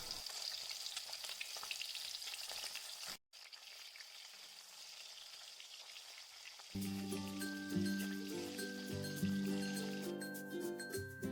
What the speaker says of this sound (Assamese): তেলখিনি গৰম হোৱাৰ পিছত মই এপিচ এপিচকৈ মাছখিনি ফ্ৰাই কৰি ল'ম।